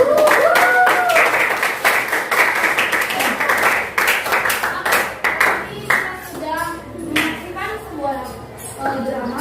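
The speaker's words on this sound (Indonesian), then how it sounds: "Sekali lagi tepuk tangan." Applause rings out in a classroom: a burst of close, dense hand clapping that thins into scattered claps as children's voices chatter over it.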